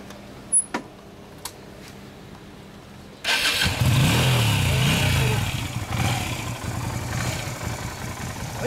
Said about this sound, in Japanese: ほなエンジンかけてもらえる？